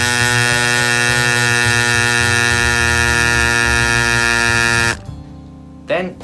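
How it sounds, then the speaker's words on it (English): A CycPlus AS2 Pro Max electric pump inflates a motorcycle tyre with a loud, steady buzzing drone that holds for about five seconds, then cuts off, followed by a quieter hum and a brief mechanical sound. "you just press the pump and it'll pump until it gets to the right PSI and it'll stop"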